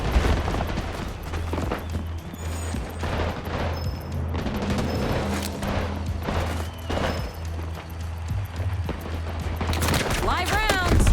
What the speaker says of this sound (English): That was a lot of bullets.